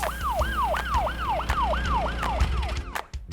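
A cartoon police car siren wails in a fast, repeating rising-and-falling pattern, loud and close, with a few knocks and clatters near the end and no talk.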